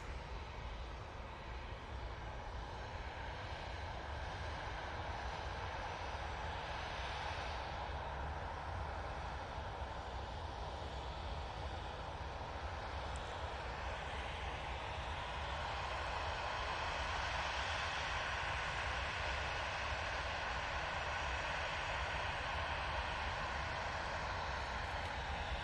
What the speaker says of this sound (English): Ryanair 737. Going off to Milan Malpensa.